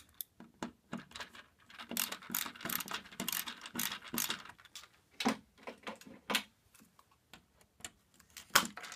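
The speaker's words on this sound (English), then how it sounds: "So I am just unscrewing these wires here." A screwdriver loosens terminal screws on a roof-mounted solar panel junction box. Quiet, close clicking and ratcheting scrapes come in short irregular bursts with pauses between them.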